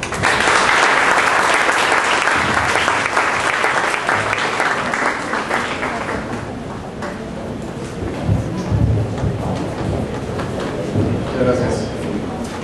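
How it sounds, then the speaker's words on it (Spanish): Loud, sustained audience applause fills a conference hall in La Laguna, dense clapping that fades somewhat toward the end with some murmuring underneath. "Un aplauso, por favor."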